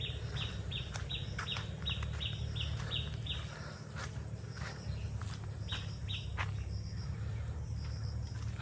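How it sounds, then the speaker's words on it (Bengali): Birds in a leafy village call in bursts of quick, high chirps, with a steady low rumble of background noise underneath and no talking. "পাখি ডাকছে ওই যে।"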